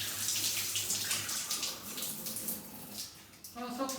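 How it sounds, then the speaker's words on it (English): Water gushing steadily from a pump outlet during bathroom and wet room plumbing work, a continuous close splashing rush with a brief dip near the end. "There's a lot of water coming out of there."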